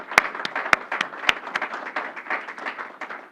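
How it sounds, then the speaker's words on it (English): Audience applause for Governor Kathy Hochul at ECMC, a steady patter of many hands clapping with a few sharper claps standing out over about three seconds, moderately loud and with no voices over it. "Let's please give her a round of applause."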